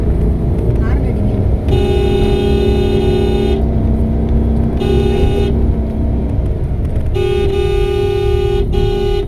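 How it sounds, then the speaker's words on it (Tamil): Several car horn blasts sound on a road over steady engine and traffic noise: a long honk, a shorter one, then another long honk, loud and close. "ஹார்ன் அடிங்க."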